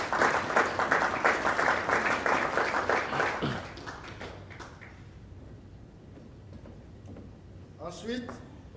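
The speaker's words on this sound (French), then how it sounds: "Veuillez applaudir pour lui." Guests at a church anniversary celebration dinner clap in a burst of rhythmic applause that fades after a few seconds, followed by quieter room noise and a brief voice.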